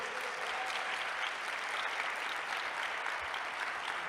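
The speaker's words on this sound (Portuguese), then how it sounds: "Dá uma salva de palmas ao Senhor." A church congregation claps together in a steady, even wash of applause, moderately distant and continuous for a few seconds, without voices over it.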